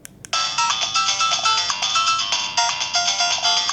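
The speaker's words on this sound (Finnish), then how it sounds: "puhelin sisältääkin alun perin vain 2 soittoääntä, josta toinen on ärsyttävä renkutus" The built-in ringtone of a Chilli K188 fidget spinner phone plays a jaunty, repetitive electronic melody of quick, bouncy notes, loud and steady after a brief click at the start.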